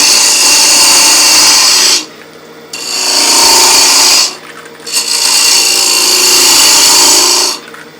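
A wooden bowl turning on a lathe, cut with a swept-back grind bowl gouge: loud, close scraping and shaving in three long passes, with short pauses where only the lathe's hum remains.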